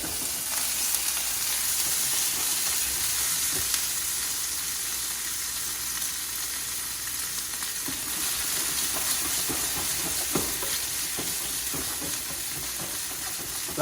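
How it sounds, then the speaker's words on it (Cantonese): Fatty cuts of Korean hanwoo beef fry in a hot pan, giving a loud, steady sizzle and hiss throughout with a few small pops and a brief shift midway. "冇錯，煎起上嚟就係咁啊"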